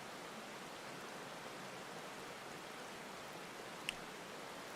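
Steady broadband rush of a waterfall in Final Fantasy XIV, even and unbroken throughout with one brief sharp click near the end.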